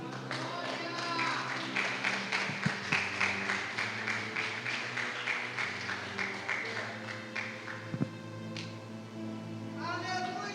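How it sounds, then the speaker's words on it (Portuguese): Church congregation clapping in a steady, rhythmic beat through a service, with singing or voices continuing over the claps and a louder single clap standing out partway through. "Sente aplaudindo o nome do Senhor."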